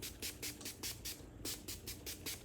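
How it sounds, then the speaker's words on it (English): Polish sprays in a rapid series of short hissing bursts onto an electric guitar body, roughly five per second with a brief pause midway, close and fairly quiet. "I'm just gonna spray down the guitar with some polish since the strings are off of it"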